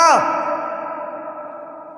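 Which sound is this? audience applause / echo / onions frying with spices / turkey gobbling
echo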